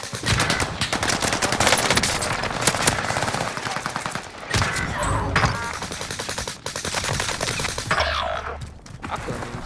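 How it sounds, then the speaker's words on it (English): Rapid automatic weapon fire in Call of Duty: Modern Warfare, loud, close bursts chained together with brief gaps and scattered single shots. "Bro, where is he shooting me from?"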